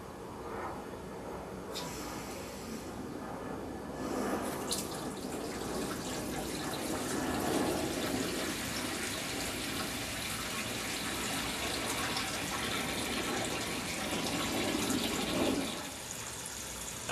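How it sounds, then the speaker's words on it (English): Water runs into a home brewing system as it fills toward mash temperature, a continuous rushing, splashing flow that swells in the middle and fades slightly toward the end, with no talk over it. "I'm gonna get the water going to get it working towards mash temp."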